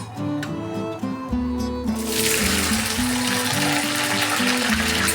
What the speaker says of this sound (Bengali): এবার এর মধ্যে আমি ঢ্যাঁড়সগুলো দিয়ে দেবো।